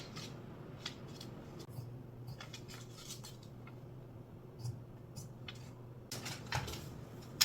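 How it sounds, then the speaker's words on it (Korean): Scissors cut blouse fabric for a Y-collar blouse, giving soft, intermittent snips and rustles that stay quiet and close, with a few sharper cuts near the end and no talking. "그래서 그냥 저는 지금 바로 자르도록 하겠습니다."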